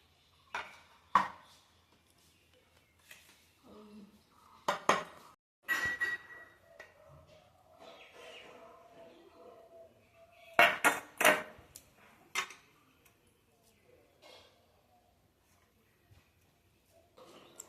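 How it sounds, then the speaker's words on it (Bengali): Rice being served onto a plate alongside a prawn malai curry made with mustard paste, with scattered clinks and scrapes of dishes and cutlery in irregular bursts, close and fairly loud, with quieter pauses between. "ভাত দিয়ে দিচ্ছি খেতে।"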